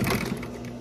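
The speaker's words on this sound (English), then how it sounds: "so this is how you backstitch?" Sewing machine backstitching while a seat cushion is reupholstered, a brief close, even mechanical whir with rapid stitching ticks and no voices.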